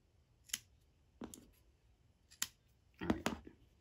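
Scissors snip through tied material while making dollar-store ferret toys, giving four separate crisp cuts spaced about a second apart, close and fairly quiet, with no talking.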